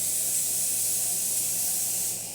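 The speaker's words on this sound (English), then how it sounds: "As you can see, it's now working. We did a full rebuild on that steam wand" A steam wand on a La Marzocco GS3 espresso machine hisses steadily after a full rebuild, a loud, close, continuous bright spray of steam that tapers slightly at the end.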